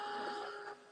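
A steady whooshing hum of a hair dryer blowing, close and fairly quiet, cutting off near the end.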